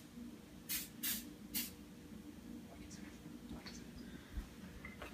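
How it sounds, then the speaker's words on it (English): Coconut oil cooking spray spritzed in a home kitchen while cooking ahi tuna: three short hissing bursts close together near the start, faint, with quiet background sounds afterward. "Spray coconut oil has zero everything or what I normally cook it with."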